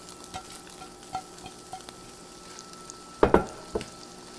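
Kale cooking on a small flat griddle with a soft, steady sizzle, broken by several light clicks and a couple of louder scraping knocks from a utensil. Close, with no speech.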